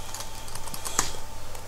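Fingers type on a new computer keyboard, a quick, fairly close run of light, irregular key clicks at moderate volume with no talk.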